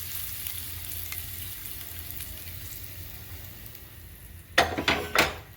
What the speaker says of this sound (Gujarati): 5 ચમચી હળદર નાખી હવે મિક્સ કરી દીધી